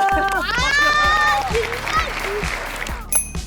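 Elementary school football team children clapping to welcome a visiting coach, a quick burst of applause under bright, excited young voices and an adult host's speech.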